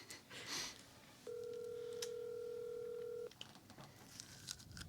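A telephone number is dialed: a few quick touch-tone beeps, then one long steady tone lasting about two seconds, quiet and close, with soft background rustle.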